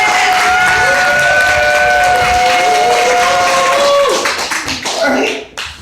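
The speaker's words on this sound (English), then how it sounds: "All this applause is for you." An audience at a magician's stage show breaks into sustained applause and cheering, loud and dense throughout, with a held musical tone ringing over it before the clapping fades out.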